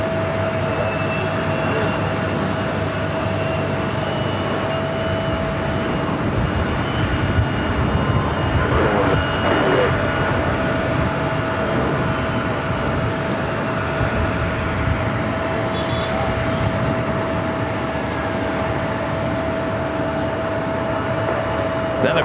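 An American 737 MAX 8 jet airliner on the runway at JFK airport, a loud continuous engine roar and rumble that stays steady and broad throughout, with no speech.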